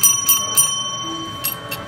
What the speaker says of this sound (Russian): покажу, как работает данный полимер на примере наших колокольчиков